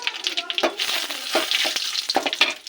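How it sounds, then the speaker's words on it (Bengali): Bay leaves and cumin seeds drop into hot oil for chicken do pyaza, hissing in a bright, steady sizzle with small crackles and a quick stir close by. "আর দেবো তেজপাতা।"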